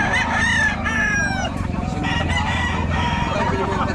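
Hens cluck and a rooster crows nearby over a dense, busy background of farmyard noise.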